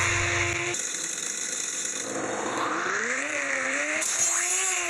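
Engines rev and shift during a car race in the Roblox game Driving Empire, with steady loud engine tones rising and falling in pitch and no talk.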